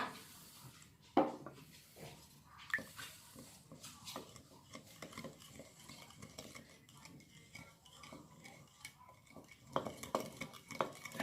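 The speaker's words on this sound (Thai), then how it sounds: "เราจะคนให้น้ำตาลละลายค่ะ" A utensil stirs a sauce in a pot or bowl to dissolve sugar, with a soft scraping swirl and a few sharp clinks against the side. Nobody speaks.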